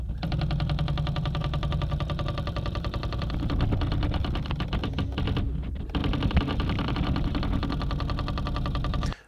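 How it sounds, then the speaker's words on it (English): A short section of a printer's mechanical whirring and clicking, picked up by a contact mic and looped, forms a steady dense buzzing rattle with a brief dropout near the middle before ending abruptly. "So I took a recording of the printer, recorded from the contact mic, and I just looped a small little section of it here."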